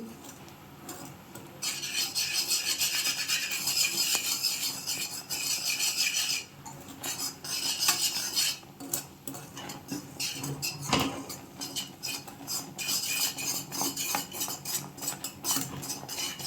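A gram-flour Mysore pak mixture is stirred and scraped in a pan with steady, rasping strokes, close and continuous, with brief pauses between bursts of rubbing.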